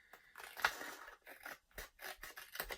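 Scissors trim paper planner pages in a quiet room. A run of crisp, close snips and paper rustles come in an uneven rhythm.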